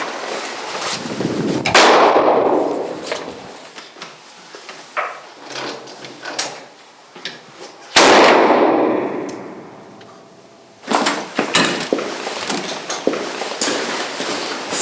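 Rifle fire at an outdoor shooting range during scope adjustment, two loud sharp reports a few seconds apart, each with a long rolling echo, plus scattered clanks and handling noise between them.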